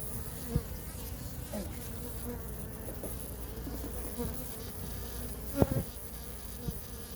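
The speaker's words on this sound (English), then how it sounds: "these bees are extremely docile until we remove the queen" Faint, continuous buzzing of bees around a hive during installation of nucs, with a few soft knocks and clicks scattered throughout.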